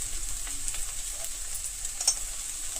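Okra (bhindi) dusted with chili powder fries in a pan with a steady, close hiss and crackle of oil that holds evenly throughout, broken by a few faint pops.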